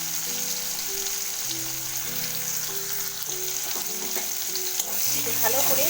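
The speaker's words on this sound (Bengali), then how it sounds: "মিহি করে কোচানো পেঁয়াজটা আমি দিয়ে দিচ্ছি প্রথমে।" Finely chopped onion hitting hot oil in a pan and being stirred, a continuous close sizzle with clanking utensil strokes, the stirring growing busier near the end, no voices.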